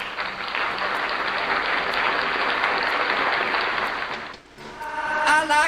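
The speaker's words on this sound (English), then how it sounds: "let's give them another round of applause" A round of applause from an audience, steady dense clapping held for several seconds before easing off briefly, then swelling again near the end with a voice rising over it.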